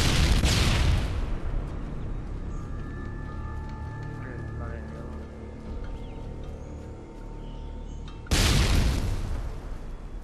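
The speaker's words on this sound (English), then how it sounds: "Tossing stun grenade." A video game stun grenade goes off with a loud, booming blast at the start, followed by a lower rumbling game soundscape, with another heavy burst near the end.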